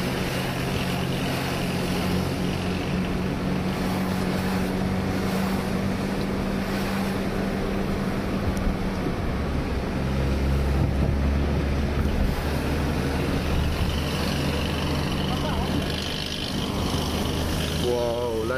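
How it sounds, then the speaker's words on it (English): Old vintage engine of a tourist boat running near Hout Bay, a steady low drone close by, mixed with wind buffeting the microphone and surf noise. "You can even hear from the sound of the engine just how touristy it is. That's an old vintage engine."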